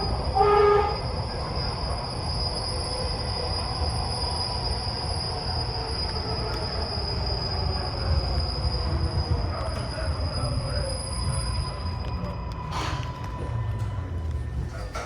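Eastbound MARTA Green Line train riding on rails between Bankhead and King Memorial stations, heard from inside the car as a steady rumbling roar with high squealing wheel tones and brief clanks near the end.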